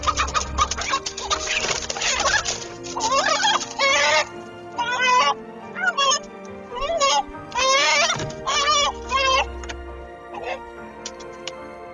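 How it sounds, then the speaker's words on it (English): A rooster defending a hen house from a hawk crows and clucks in a series of loud, repeated calls, close by, with a voice talking over parts of it. "this rooster certainly does that, protecting the hen house from a hungry hawk."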